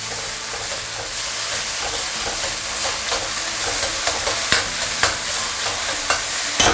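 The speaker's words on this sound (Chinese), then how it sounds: "一定把这个豆瓣酱给它炒香，别急哈，豆瓣一定要炒香。" Red-oil doubanjiang chili bean paste with a little garlic stir-fried in a wok, giving a steady close sizzle and hiss with scraping stirs and spatula clacks growing sharper toward the end.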